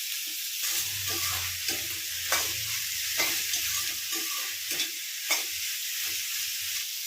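Ivy gourd thoran with finely chopped onion gets stirred in a pan, a bright steady sizzle with soft scraping strokes and occasional knocks, close and without talk.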